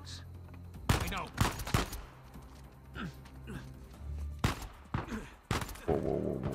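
Gunfire in the video game Uncharted 4 cracks out in several sharp, loud bursts spread irregularly over a few seconds, with quieter in-game background sound between the shots.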